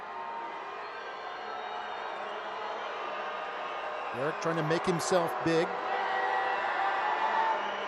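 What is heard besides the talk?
stadium crowd at a soccer match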